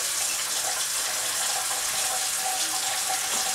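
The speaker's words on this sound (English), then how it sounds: "Now my water's going down." Water running and draining down a kitchen sink after unclogging, a soft steady hiss and trickle with faint gurgles, moderately quiet and continuous with no voices.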